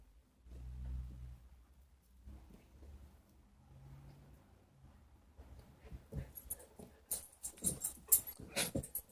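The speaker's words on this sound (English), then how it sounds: "my dogs are still going nuts" Dogs bark and yelp repeatedly in the background, growing louder and more frantic toward the end, with a low rumble early on.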